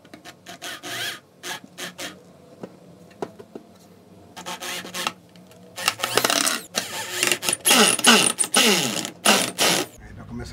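An electric drill drives screws into an MDF desk in a workshop, with bursts of whirring and grinding broken by short pauses and ratcheting clicks, close and fairly loud.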